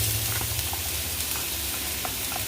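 Vegetables sautéing in olive oil in a small skillet over medium heat give off a steady, soft sizzle with faint crackles and pops, continuous and close, with no voices.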